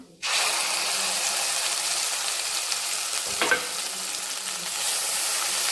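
Loud, steady sizzling of ground masala and Byadgi chili powder frying in hot oil begins abruptly and continues, with a brief stirring scrape midway.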